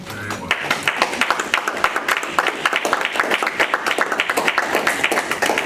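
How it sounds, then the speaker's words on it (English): An audience at a business leadership talk claps steadily, a dense patter of many hands that holds an even level throughout. "If you're clapping, make sure you clap very well."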